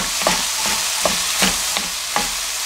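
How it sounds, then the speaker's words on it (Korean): Bean sprouts seasoned with black pepper are stir-fried in a pan: a constant close sizzle is broken by a handful of evenly spaced utensil scrapes and taps, with no talking. "이제 볶아줍니다."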